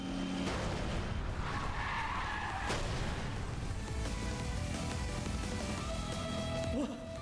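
Race cars skid and slide out of bounds in a racing sequence from the video game Trails Through Daybreak 2, a loud continuous tire-screeching rush with engine roar that swells midway and runs for several seconds.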